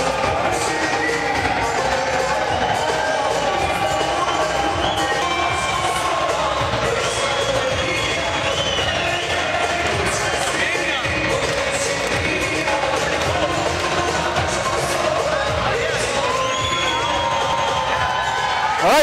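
A crowd of about 3,000 fight fans at a TXC MMA event in Michigan roars continuously, with loud sustained cheering, whoops and shouts filling the arena throughout.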